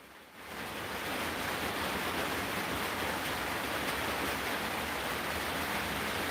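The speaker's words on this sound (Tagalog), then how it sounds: "Alangan malakas ang ulan dito." Heavy rain pours steadily in a dense, loud broadband wash that swells in after the first half-second and holds constant throughout, with no voices.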